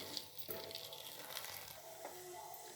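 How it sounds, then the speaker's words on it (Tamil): A spoon stirs ground rice dough in a pan until it thickens for savory kozhukattai, producing faint scraping and soft sizzling with occasional knocks against the pan, quiet and close, with no one talking. "இது நல்லா கிண்டணும் நல்லா கெட்டியாக வர வரைக்கும் நல்லா கிண்டணும்"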